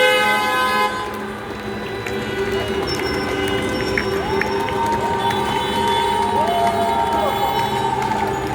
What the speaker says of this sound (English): So maybe it's when cars honk.